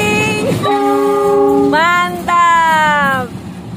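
A CC206 locomotive's horn blares loudly in sustained blasts, with the rumble of a passing train beneath, on the line to Cicalengka station, Indonesia.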